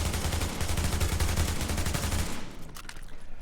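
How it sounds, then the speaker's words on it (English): An SMG in the video game The Division fires in rapid feathered bursts, a loud, dense stream of shots for over two seconds, then a quieter tail with scattered clicks. "Let's try feathering this gun at the head."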